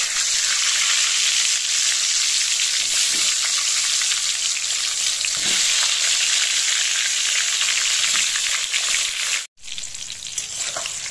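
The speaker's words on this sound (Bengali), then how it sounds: "একটু বেশি করে তেল দিয়ে পটলগুলো আমি ভাজবো" Pointed gourd pieces fry in plenty of hot mustard oil in a pan, giving a loud, continuous close-up sizzle with a brief break near the end.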